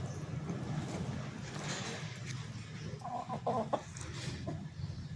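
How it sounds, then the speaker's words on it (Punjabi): Hens kept in a small backyard flock cluck and murmur steadily against a noisy outdoor background, with a few sharper, louder clucks near the end; no speech. "ਇਹ ਮੁਰਗੀਆਂ ਰੱਖੀਆਂ ਹੋਈਆਂ ਨੇ ਇਹ 10 ਮੁਰਗੀਆਂ 5-6 ਅੰਡੇ ਰੋਜ਼ ਦੇ ਦਿੰਦੀਆਂ ਨੇ"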